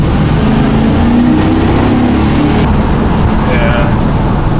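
A 2019 van on a hot road accelerating at wide open throttle, engine droning loud and close with a shift in tone partway through as the transmission changes gear.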